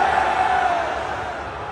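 Crowd at a live event booing The Rock, a loud sustained roar of many voices held steady and close, fading slightly toward the end.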